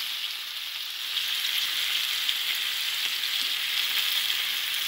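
Kikkoman oyster sauce hitting a hot pan of tofu and beef stir fry, a steady bright sizzle that swells slightly after a second and holds loud and close, with no talking.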